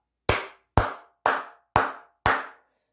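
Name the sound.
clapping in thanks to Intel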